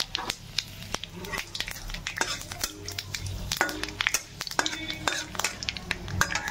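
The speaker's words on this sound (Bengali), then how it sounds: "পাঁচ ফোড়ন তেজপাতা দিচ্ছি" Panch phoron and bay leaf tempering in hot oil, crackling and popping spices over a soft sizzle, with frequent sharp spoon-on-pan clinks and scrapes close by.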